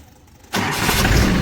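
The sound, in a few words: tractor engine starting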